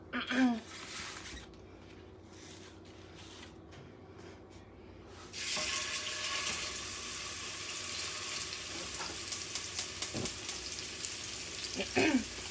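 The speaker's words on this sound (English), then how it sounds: "you actually want it to sizzle like that and be at a decent temperature" Hot oil crackles and sizzles steadily after steak hits an oiled cast iron skillet, a dense hiss that continues with occasional louder pops.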